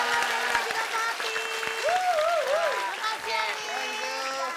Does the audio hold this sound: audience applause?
yes